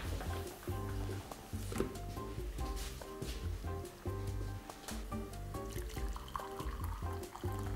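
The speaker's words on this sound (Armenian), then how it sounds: "կավելացնենք եռացրած ջուր" Boiled water is poured over toasted buckwheat in a pot, making a continuous splashing, gurgling pour under background music.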